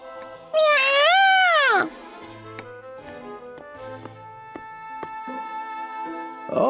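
Loud, drawn-out, wavering cat meow from the video game Labyrinth of Galleria, heard once and up close, followed by soft game music with light plucked tones.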